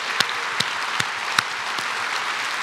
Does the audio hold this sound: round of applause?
yes